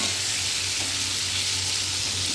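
A constant, dense sizzle rises from thin slivers of potato frying in a pan, close and even with no voices over it.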